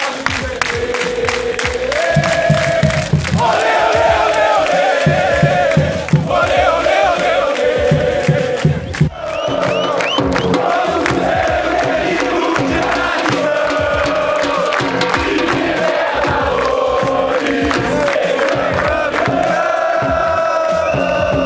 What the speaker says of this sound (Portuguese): A torcida tá empolgada ali atrás.